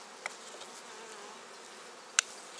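Bees hum softly inside an opened hive, a calm, even, low-level drone that holds steady throughout, broken only by two brief clicks.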